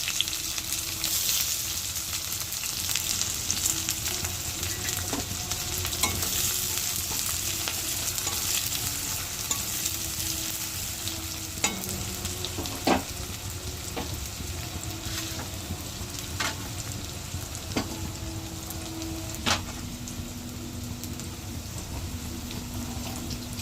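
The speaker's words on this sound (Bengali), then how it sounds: "কড়াতে আমি বেশি একটু তেল অ্যাড করে তার মধ্যে তেজপাতা আর পেঁয়াজ কুচি দিয়ে দিয়েছি" Bay leaf, chopped onion and black cumin fry in plenty of oil in a kadai, making a continuous crackling, rain-like sizzle with occasional sharp clicks and scrapes of a spatula.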